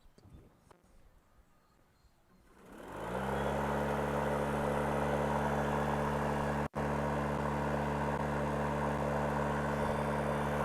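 A Craftsman E-150 MTD electric riding mower powers up. A quiet start gives way, after about two seconds, to a rising motor hum that settles into a loud, steady, tonal drone with one brief dropout.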